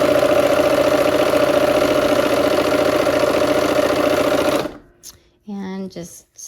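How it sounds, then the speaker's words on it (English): A sewing machine runs in a fast, continuous whirring rattle as quilt block pieces are sewn with a 1/4 inch foot, then stops abruptly, followed by a brief spoken voice. "We're gonna go ahead and sew these sides on first."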